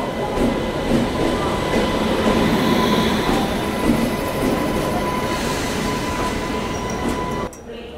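The Silchar–Coimbatore Express pulling out of Guwahati station, a loud steady rumble of rolling wheels and carriage noise with a faint squealing tone, continuous throughout before dropping slightly at the end.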